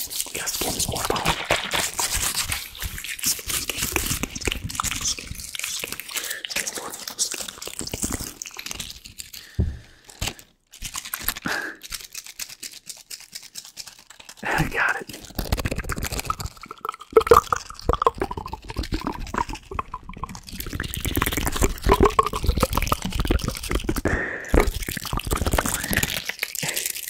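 Plastic water bottle ASMR: close, continuous crinkling, crunching and squeezing of the bottle with sloshing liquid, dense and steady, dipping briefly into quieter stretches before building back up.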